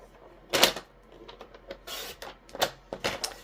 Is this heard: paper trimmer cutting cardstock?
yes